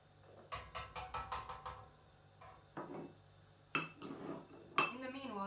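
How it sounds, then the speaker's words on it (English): A spoon stirs dissolving syrup in a pot for elderflower cordial, a quick run of about six rhythmic metallic scrapes and clinks, then a few scattered knocks, fairly close and moderately loud, with no talking. "I'm going to keep giving it a stir every so often"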